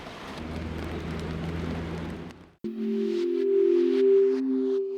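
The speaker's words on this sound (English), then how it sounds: "Heavy rain literally turned Hong Kong Stadium's turf into mud." Heavy rainstorm in Hong Kong, a dense roar of rain that cuts off abruptly midway, followed by a different broadcast segment with low tonal hum.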